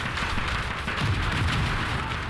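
Grenade explosions in the Call to Arms: Gates of Hell game, a dense roar of blasts and gunfire with heavy low booms, continuous and loud throughout.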